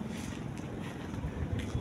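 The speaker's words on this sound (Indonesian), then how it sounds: "angin kencang banget teman-teman" Strong wind buffets the microphone at an outdoor fish pond, a dense, continuous roar with gusty swells and no voices.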